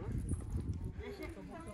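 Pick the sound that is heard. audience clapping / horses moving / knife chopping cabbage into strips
horses moving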